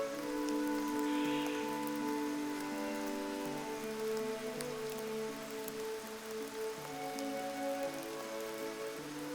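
Steady heavy rain falls throughout in Tadoba National Park, a constant hiss of drops on surfaces beneath a sustained tonal hum, with no voices.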